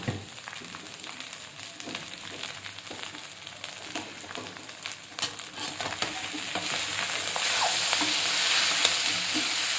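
Cooked rice with fresh coriander is stirred and sautéed in a hot pan: a steady close sizzle with continuous scraping and stirring strokes that grow slightly louder toward the end, no voices.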